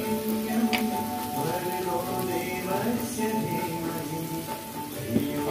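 Egg and chicken fry in a pan with a continuous crackling hiss, close and steady, marked by a few faint clinks and no talk.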